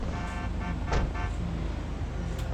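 A car in GTA V rolls into a parking spot with a rough, continuous engine rumble. Short bursts of a tonal horn-like hum come and go, and there is one thump partway through.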